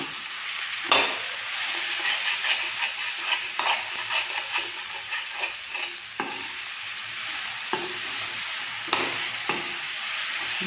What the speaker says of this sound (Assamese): গতিকে এনেকৈ লাহে লাহে ভাজিব।